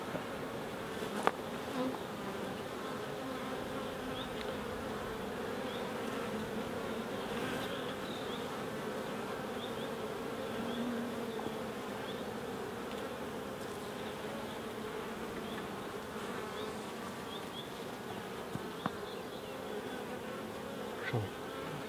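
A steady, dense buzzing of many bees at a vandalised hive in the UK hums continuously at close range, with occasional brief clicks and knocks.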